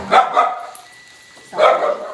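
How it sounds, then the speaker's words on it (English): A pet dog in a home kitchen barks during a cooking demonstration for Pampered Chef chicken nachos: a pair of quick close barks, a pause, then another bark. "Sorry, that's my dog."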